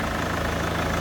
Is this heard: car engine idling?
yes